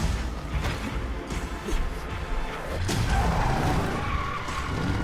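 Tires skidding on a car in a video game, a continuous screeching slide with a few dull thumps, loud and up close throughout.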